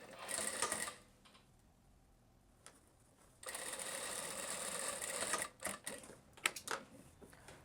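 A sewing machine runs a second finishing seam on a blouse: a close, steady mechanical whirr in two long bursts separated by a quiet pause, ending in short stop-start stitching spurts.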